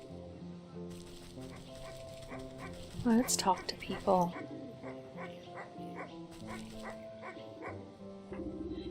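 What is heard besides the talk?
dog barking in the video game Wytchwood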